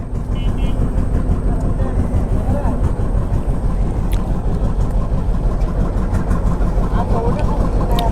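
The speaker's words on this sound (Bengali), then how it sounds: "ট্রলার ছেড়ে দিয়েছে ঘোরঘাটা থেকে" A trawler's engine drones steadily and loudly on a crossing from Ghoraghata, Maheshkhali, toward Cox's Bazar, a constant low rumble with faint talk mixed in.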